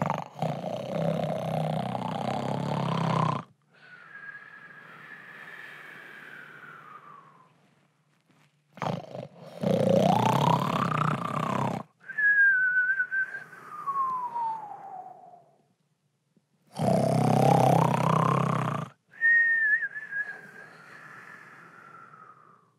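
A storyteller's voice mimics a wolf snoring: three loud, rasping roar-like inhales, each followed by a high, falling whistle on the exhale, repeated in a steady rhythm with short silences between.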